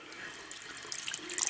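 Hot water gushes steadily from a tap, filling a bath in a quiet house, a continuous close splash that swells slightly louder toward the end.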